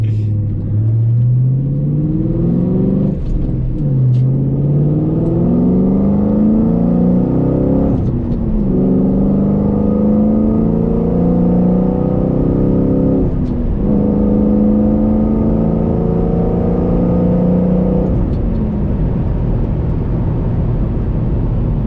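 A Ford Mustang engine revs loudly and continuously while driving, rising through gears in repeated sweeps over about twenty seconds, close and steady with no talk.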